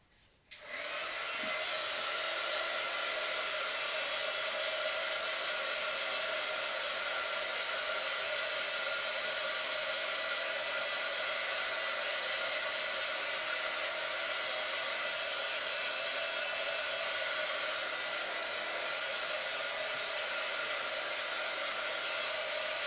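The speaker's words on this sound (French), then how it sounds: "je fais sécher avec le pistolet chauffant" A heat gun drying a handmade card switches on with a click and then blows a steady, loud, even whooshing roar that holds unchanged for over twenty seconds with no talking.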